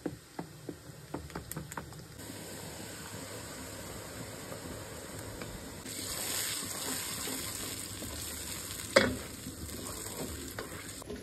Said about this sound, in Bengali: এই যে আমার রোস্টের মশলাটা জাল করা হয়ে গেছে